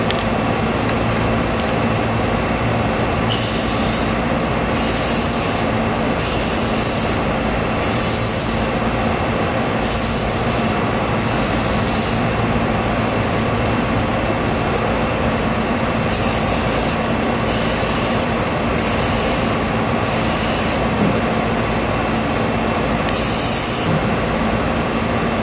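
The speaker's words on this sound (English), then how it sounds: "we're gonna give the magazine the second coat on the other side" Spray paint hisses onto an AK-74 rifle magazine for a second coat, in repeated short bursts over a constant loud background hum.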